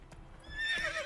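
Roach the horse from The Witcher 3 whinnies in-game, a brief neigh rising near the end over faint hoof clatter, close and fairly quiet.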